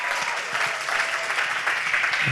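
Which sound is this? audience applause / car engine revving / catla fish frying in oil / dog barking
audience applause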